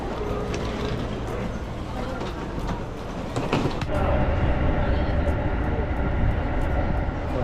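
Steady, loud rumble of an Access Express train in motion to Asakusa, Tokyo, with rolling wheel noise and a rush of air, plus a heavier surge partway through.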